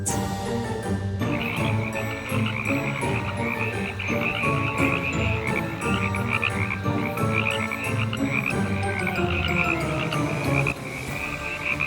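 A dense chorus of frogs croaks nonstop as a sound effect for a spooky kids' play-cooking scene. Many overlapping croaks and trills stay loud and steady throughout.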